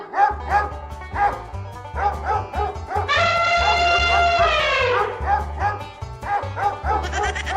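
Several dogs barking repeatedly in a busy cartoon scene, yips and bow-wows layered over a pulsing low musical beat, with a sustained howl-like tone in the middle.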